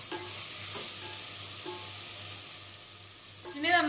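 Mutton curry masala sautéing in a pan, with a steady sizzle and hiss under several soft scraping strokes of a spoon, the stirring growing louder at the end.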